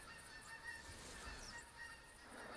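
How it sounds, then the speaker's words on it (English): Flock of geese honking in theHunter Classic, a hunting video game, a steady stream of overlapping calls at moderate distance over continuous ambient background. "Lots of geese coming in, and six of them broke off"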